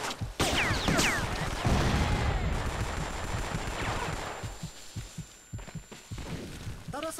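Gunfire crackles through a firefight in the Vietnam War shooter Vietcong, starting with bursts of rifle and machine-gun fire, then thinning to scattered shots that sound farther off, with a little talk underneath.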